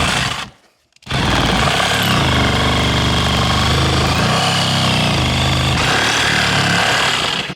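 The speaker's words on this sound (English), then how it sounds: "I'm just gonna use the trusty old sawzall" A reciprocating saw cuts a small hole in the wooden framing of an island cabin under construction. After a brief quiet gap, the saw runs loud, close and steady for about six and a half seconds with no talking.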